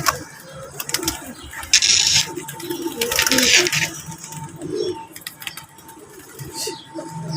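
Soft pigeon coos recur through the clip amid a busy outdoor background, with a couple of bursts of hissing noise and faint voices.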